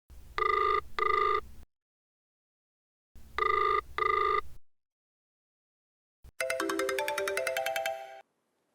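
A telephone ringing: two bursts of a bright double-pulsed electronic ring separated by silence, then a longer trilling ring pattern, clear and close with no speech.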